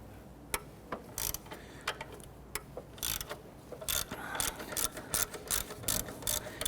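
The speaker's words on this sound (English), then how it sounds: "We're going to loosen the back bolt here. This is a 12mm." A ratchet wrench clicks in short bursts while loosening a 12mm bolt on a 1992-1996 Toyota Camry 2.2L four-cylinder engine, with rapid close pawl ticks in quick, uneven runs and no speech.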